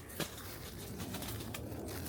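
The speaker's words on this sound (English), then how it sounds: "Pigeon going crazy in the tree." A pigeon coos in a tree beside an old, overgrown graveyard outdoors, with low, soft hooting notes set against a steady wash of wind or ambient outdoor noise and a couple of brief rustles.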